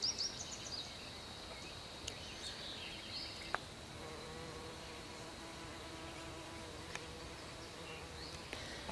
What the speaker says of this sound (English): You see that bee is going after the plantain, that's narrow leaf plantain in bloom.